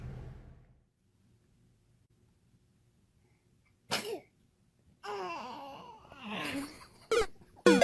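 A baby sneezes sharply and close, setting off a brief burst of noise, then gives fussy vocal sounds and a second quick sneeze-like burst after a quiet stretch.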